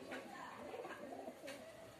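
An Andhra pigeon, a flying-line breed, coos softly in low, throaty murmurs against faint background noise.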